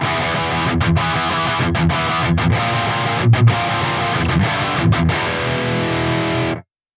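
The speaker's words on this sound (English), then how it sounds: "Next, we move on to the master control for the overdrive channel." Electric guitar rhythm chords ring out through a Soldano SLO-100 overdrive channel with the master at 3, saturated and loud, punctuated by brief muted gaps before ending abruptly.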